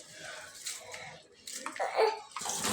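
Water sloshes and splashes in a container as urad dal (black gram lentils) is rinsed by hand, with a faint voice in the background.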